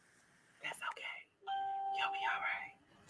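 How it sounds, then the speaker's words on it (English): A phone ringtone that sounds like a doorbell chimes in sustained, steady tones lasting about a second and a half, close and fairly loud, with brief talk just before it. "Somebody they're ringing the doorbell."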